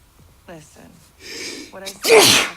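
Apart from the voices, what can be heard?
a person sneezing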